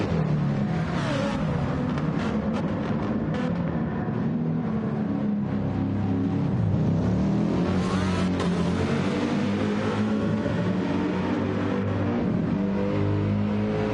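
Race car engines roar continuously in a sim racing game session, a dense, steady drone of revving and accelerating motors with shifting pitch, loud and unbroken, no voices.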